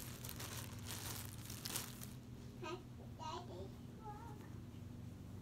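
Crinkling of plastic bags holding bundled baby sleepers during a Target unboxing, a rustle of crackles at close range over a steady background hum, fading as a soft voice speaks briefly.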